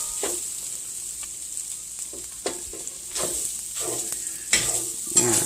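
A spoon stirs potatoes in hot bacon grease for a tater tot casserole, with a steady sizzle and scraping strokes against the pan bottom, close and alone.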